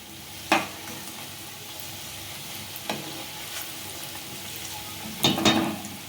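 Green pea snacks deep-frying in hot oil in a home kitchen, turned over until reddish: a steady soft sizzle with three sharper bursts of bubbling and scraping as the pieces are flipped, no talking.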